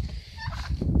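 Farm turkeys gobble in a brief, close burst of warbling calls, loud and alone.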